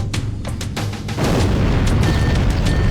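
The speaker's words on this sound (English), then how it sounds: "I didn't have any explosive rockets for this section, so I just threw some nades" Thrown grenades detonating in Halo: Combat Evolved on Legendary, a few sharp pops followed by a sustained heavy rumbling blast, loud and close with no talk.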